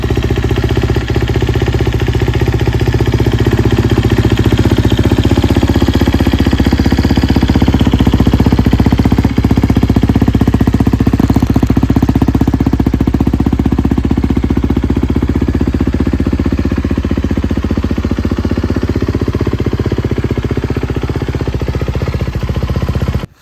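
The engine of a 2024 Kawasaki KX250X four-stroke dirt bike runs steadily and loud close up. It holds a constant rumble with small swells in revs over about twenty seconds.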